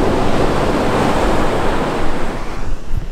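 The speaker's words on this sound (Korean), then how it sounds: "여전히 파도는 엄청나게 치고 있네요." Heavy surf pounds Sunguet Beach in the evening, a loud continuous roar of crashing waves mixed with gusting wind buffeting the microphone, no talking.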